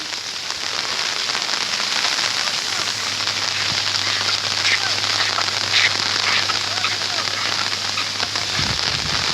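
Heavy monsoon rain pours during flooding in the village of Tanka, a dense, loud, continuous hiss of drops drumming on surfaces throughout.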